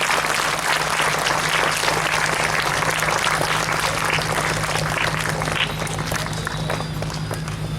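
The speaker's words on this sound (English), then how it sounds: "Clap for Rajendra House." Students in a school gathering clap for Rajendra House, a dense, steady roar of applause from a large crowd that carries on loudly and evenly, easing slightly near the end.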